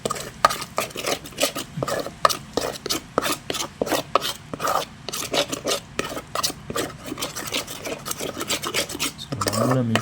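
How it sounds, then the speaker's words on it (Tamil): Bottle gourd dosa batter being stirred by hand, a steady wet rubbing and scraping in quick repeated strokes, close and continuous with no talk. "இப்போ இதை நல்லா மிக்ஸ் பண்ணணும்."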